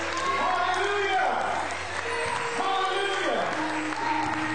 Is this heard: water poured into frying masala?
no